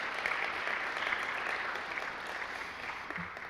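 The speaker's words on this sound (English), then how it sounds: "Let's clap for them too." Audience applause for a team of PLTW teachers at a school capstone ceremony, a steady, even patter of clapping from a crowd filling the whole moment without voices.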